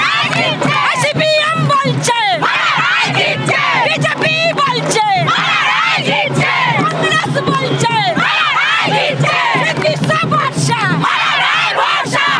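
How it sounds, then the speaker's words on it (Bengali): A large crowd of women party workers chants loud, overlapping political slogans outside a 2024 Lok Sabha election nomination, with voices shouting continuously and densely throughout. "এখানে বাম যারা মহিলা কর্মী চোর স্লোগান তুলছেন।"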